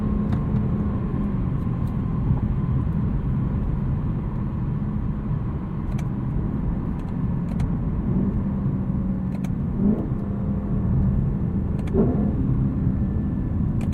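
Engine of a 2018 Lexus LC 500 heard from inside the cabin during driving, a steady deep rumble that rises and falls slightly through revs, with no speech.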